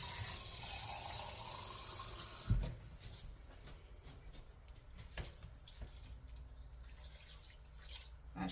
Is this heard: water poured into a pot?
yes